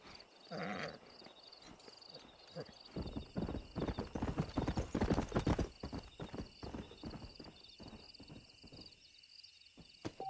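In the Red Dead Redemption video game a horse's hooves clip-clop in a steady, close rhythm that grows louder mid-clip and then fades, with a brief whinny near the start and faint background tones.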